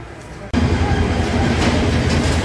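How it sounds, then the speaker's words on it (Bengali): Chattogram Mail train rolling into a railway station at night, a sudden loud rumble with rhythmic clacking of wheels that starts after a brief quiet moment and stays heavy and close throughout. "রাত একটা বিশ মিনিটে চট্টগ্রাম মেল ট্রেনটি প্রবেশ করলো"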